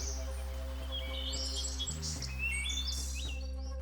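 Finches give soft, rising trills and chirps over a steady low mechanical hum, the bird calls light and scattered across the clip.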